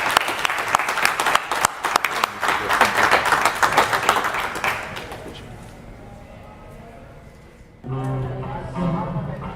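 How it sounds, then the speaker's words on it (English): Audience applause at a holiday safety presentation, loud rhythmic clapping for about five seconds that fades into quieter room noise, followed by music or voices near the end. "please give Joe a big hand of applause"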